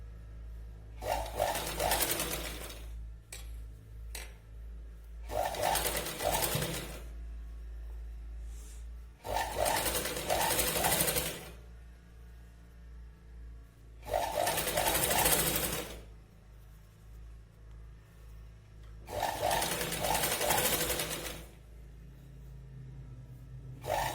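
A sewing machine stitches piping onto a simple katori blouse in five steady whirring bursts separated by short pauses, close and clear with no talk.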